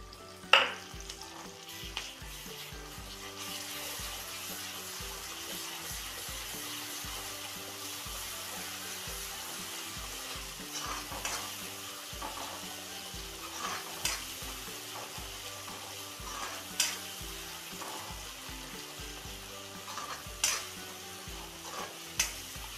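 Ginger-garlic paste fries in a pan for dry fish chutney, giving a steady, soft sizzle with occasional scraping stir clicks over background music.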